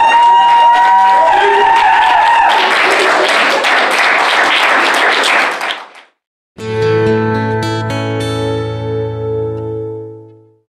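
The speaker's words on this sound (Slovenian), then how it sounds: "En aplavz, prosim, lepo." Applause breaks out at a local celebration in Metlika, a dense round of clapping from a crowd lasting several seconds before cutting off, followed by sustained music tones.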